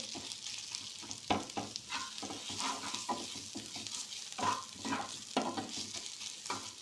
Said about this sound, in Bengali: এবার এটাকেও একটু এই পেঁয়াজের সাথে ভালো করে মিশিয়ে নেব।